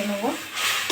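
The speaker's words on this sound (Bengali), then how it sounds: "একটু নেড়ে চেড়ে ভেজে নেবো।" Ginger paste and spices stir-fry in a pan: a brief sizzle with a quick scrape of stirring, close and fairly loud.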